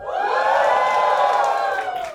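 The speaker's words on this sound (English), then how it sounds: "Give me a cheer if you don't have kids." Stand-up comedy club crowd erupting in a loud, sustained cheer full of whoops and shouts, strong from the start and holding for two seconds before tapering a little, with no speech over it.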